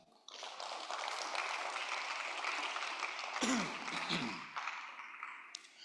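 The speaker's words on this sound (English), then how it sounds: "Clap for the man." A crowd at a business meeting in Lagos applauds steadily for several seconds, the clapping dense and fairly loud, with a brief stir of voices near the end.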